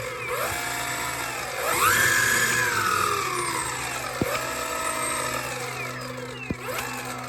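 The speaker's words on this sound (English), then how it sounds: "As for the sound of the gear drive, it's a little more high pitched yet quieter than a belt drive." The gear-drive motor of a Meepo Voyager electric skateboard whines as it rises and falls in pitch while the board rolls past. A couple of sharp clacks break through, with no talk.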